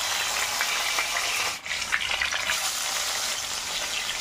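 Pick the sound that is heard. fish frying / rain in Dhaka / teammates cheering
fish frying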